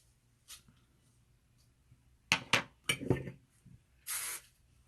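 Hairspray hisses out of an aerosol can onto hair in several short sharp bursts, close and fairly loud, with small clicks between sprays and a longer final spray.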